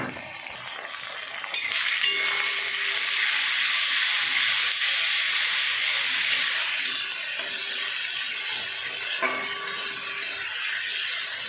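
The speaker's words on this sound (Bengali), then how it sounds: "আমার পেঁয়াজটা একটু ভাজা হয়ে গেছে। এবার আমি মশলাটা যে করে রেখেছি এটা দিয়ে দেবো।" Onions and a prepared spice mix frying in a pan, a steady loud hiss with occasional clinks of a utensil against the pan.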